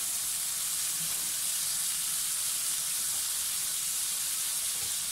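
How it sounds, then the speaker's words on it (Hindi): Butter sizzles loudly in a hot pan alongside a beef steak, a dense continuous hiss and crackle held steady for five seconds with no talking. "तो देखें, ये इस तरह से मक्खन हम ऐड कर देंगे, बहुत अच्छा सा स्मोक आ जाएगा।"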